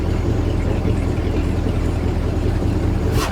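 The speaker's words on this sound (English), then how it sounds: "And as you can hear, we have the exhaust open now." A 2008 Sea Ray 260 Sundeck motorboat's engine runs with its exhaust open on a sea trial, a loud, steady, low rumbling drone heard up close without talking.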